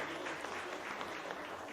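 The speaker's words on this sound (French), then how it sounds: "oui, on peut les applaudir." Applause from an audience in a rented bar and grill hall during a community television talent show, a steady, fairly faint patter of clapping hands with no talk over it.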